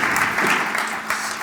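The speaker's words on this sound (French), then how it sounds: "je pense qu'on peut les applaudir pour ce très beau projet" Audience applause at a French architecture talk on a 68-unit sustainable housing project in Pantin, a steady wash of clapping held at an even level for a moment with no voices.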